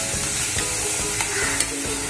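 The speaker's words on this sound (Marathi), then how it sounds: "त्याच्यामुळे आपलं खोबरं आणि कांदा पण चांगला परतला गेला आहे" Grated coconut and onion are sautéed in a pan with spice masala, a dense continuous sizzle with soft scraping stir sounds, near and loud without speech.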